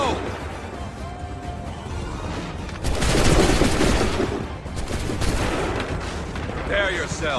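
Musket volleys crack out in the Assassin's Creed 3 video game, a dense rolling burst of gunfire that swells loud around the middle and keeps rumbling, with shouted commands from soldiers mixed in.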